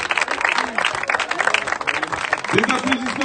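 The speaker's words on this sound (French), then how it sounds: "Et aussi un tonnerre d'applaudissements pour les marqueurs." A basketball final crowd at a 3x3 junior league event applauds the scorers, dense clapping and cheering throughout, with a voice speaking over the ovation.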